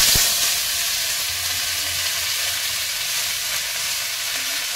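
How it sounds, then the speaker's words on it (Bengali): Leafy greens fry in a hot pan with a loud, steady sizzle and hiss, beginning with a sharp clink and continuing evenly. "এবার শাকটা দিয়ে দিচ্ছি।"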